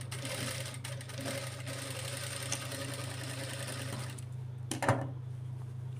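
A sewing machine runs steadily, stitching a frill onto a child's lehenga blouse, with a constant motor hum for most of the stretch before it stops near the end and a brief clack follows.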